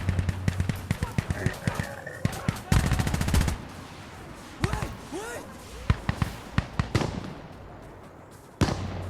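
Artillery and gunfire in the shooter Insurgency Sandstorm: dense bursts of rapid cracks and heavy booming impacts, some rolling rumbles, loud and close, with a voice talking over the barrage.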